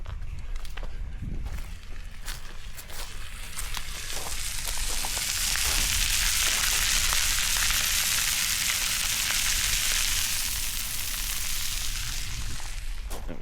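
Steak frying outdoors in a pan, a steady close sizzle with faint stirring and crackles that swell louder mid-way, under a breezy, wind-brushed background.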